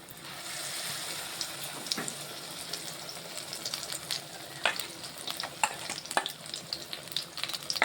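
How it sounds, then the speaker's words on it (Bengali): A chop frying in oil on low heat for an Ekadashi recipe, a soft steady sizzle with scattered crackles and small pops growing more frequent, fairly quiet and with no talking. "এটা একদম অল্প আঁচে এই চপটা ভাজতে হবে"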